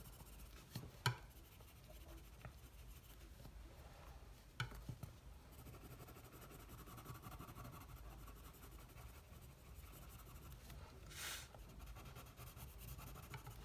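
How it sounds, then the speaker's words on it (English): A coloured pencil is pressed hard onto paper to burnish scales in an iridescent drawing, producing a very faint, steady scratchy rubbing with a few soft taps, close and alone without talk. "Getting quite a bit of pencil dust on this because I am pressing quite hard."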